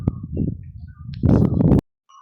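A bird at its nest gives low, throaty cooing calls close by, followed by a brief burst of rustling and flapping that cuts off abruptly.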